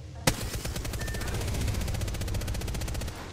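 A sharp opening crack gives way to a fast, evenly pulsing stream of energy-weapon fire in a video game, loud and sustained for about three seconds before cutting off.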